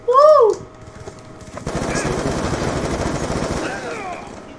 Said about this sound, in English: shotgun bullets in the distance